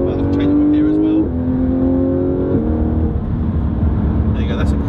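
A Porsche 991 GT3 RS engine accelerating, heard from inside the car as a loud, close rising whine that climbs in pitch through quick gear changes, with brief dips between shifts.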